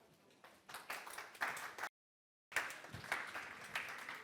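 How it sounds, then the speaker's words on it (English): Faint clapping from a conference audience greets a speaker coming onstage at a blockchain and carbon offsets event, rising in bursts and broken by a brief dropout to silence before it resumes. "Give him a round of applause."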